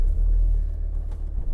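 A VW T5 Transporter van after a tandem pump replacement drives with a deep, steady engine rumble heard from inside, close and fairly loud, with no talking.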